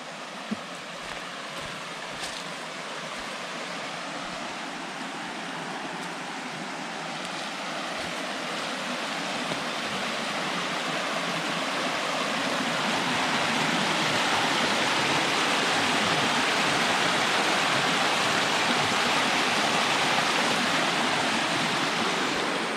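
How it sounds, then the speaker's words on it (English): A small waterfall on a woodland brook in the Lepper Brook watershed rushes in a steady, dense wash of splashing water that grows gradually louder and nearer, with no voices. "Here's a little waterfall. It's the first one on this stretch of brook here."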